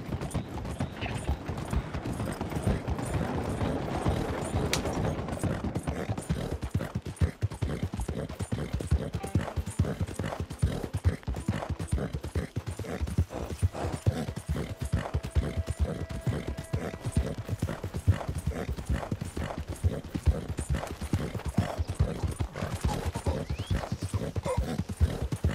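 In the video game Red Dead Redemption 2, horse hooves clip-clop in a steady, rapid rhythm throughout, with an occasional whinny, faint mechanical noises and light talk.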